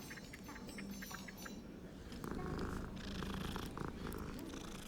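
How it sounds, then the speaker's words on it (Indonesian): A cat in the video game Hogwarts Legacy purrs steadily as it is petted. The soft, continuous rumble runs for several seconds at low volume, with faint game ambience behind it and no speech. "apa hewan apa lagi yang bisa kita pet selain kucing?"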